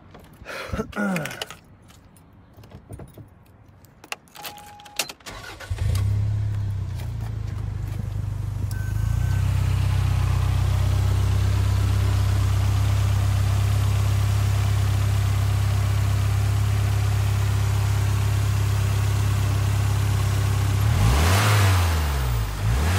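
After some rustling and key jangling, a 1993 Toyota MR2 engine starts up, settles into a loud steady idle, then is revved sharply near the end.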